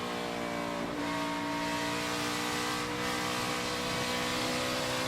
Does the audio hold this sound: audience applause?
no